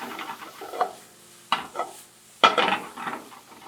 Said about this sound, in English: You want to constantly keep it moving because you don't want it to stick to the bottom of the pan.